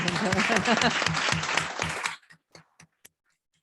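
Audience applause at an academic panel discussion for two presenters, loud and dense for about two seconds, then breaking off into a few scattered final claps in a quiet room, with voices mixed into the clapping.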